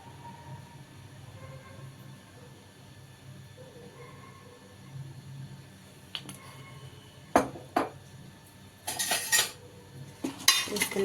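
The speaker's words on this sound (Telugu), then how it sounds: "వేసుకుని మొత్తం కలిపేసుకుందాం." Curry ingredients such as yogurt and tomato sauce are stirred and mixed in a pot, faint scraping at first, then a series of sharp metallic clanks and clatters of a spoon against the pot toward the end.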